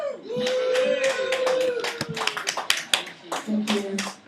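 Small group applauds a band after an interview, brisk hand claps building alongside a whoop and bright excited voices, close and lively.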